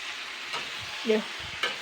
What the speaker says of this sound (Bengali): এইবার আমি ধুয়ে রাখাম মাছের তেলটা দিয়ে দেবো